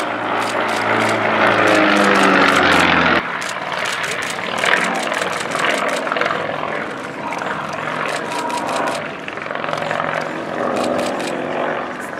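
A Sukhoi Su-31 aerobatic propeller plane's engine roars loudly and steadily, its pitch shifting as it climbs and hangs, with faint commentary underneath, at an air show.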